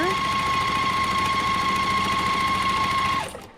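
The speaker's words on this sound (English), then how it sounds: "sewing on each side of that drawn line" A sewing machine runs steadily, stitching pairs of quilt squares placed right sides together along a drawn line, with a continuous whirring hum and high whine that holds for about three seconds and then stops abruptly.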